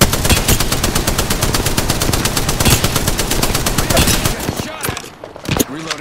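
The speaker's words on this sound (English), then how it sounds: "Getting shot at." Rapid automatic gunfire in Apex Legends with a Spitfire light machine gun, loud and dense bursts of shots hammering steadily while under fire, tapering off near the end with scattered single reports.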